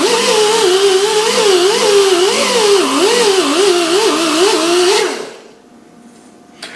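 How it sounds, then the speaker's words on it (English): A Dynabrade right angle die grinder buffing an aluminum rim with a buffing wheel, a loud, high whirring whine wavering in pitch as pressure changes, running steadily for about five seconds before cutting off and spinning down to near silence. "I was able to buff out this aluminum rim with a buffing wheel and the right angle die grinder"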